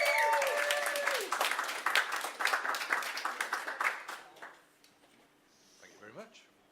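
Warm crowd applause welcoming a storyteller to the stage at a live storytelling evening, dense clapping that thins into scattered claps and fades out, followed by a short spoken voice.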